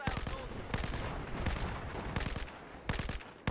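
Gunfire in the video game Battlefield 4, with repeated bursts of shots in quick clusters and steady rumbling battle noise underneath.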